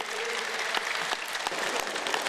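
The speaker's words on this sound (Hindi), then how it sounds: "चलो अपने लिए ताली बजाओ" An early-morning yoga session audience applauds itself, a dense continuous wash of many hands clapping at even volume, with a few sharper individual claps poking through and no speech.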